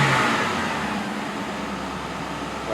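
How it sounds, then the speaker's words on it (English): Car driving past loudly on a nearby street, a broad engine and tire rush that is strongest at the start and stays as a steady roar, with no talking. "Sorry, that car's loud."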